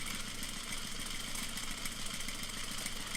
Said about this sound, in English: I'm going to consistently sew that seam, watching where it's going under the presser foot.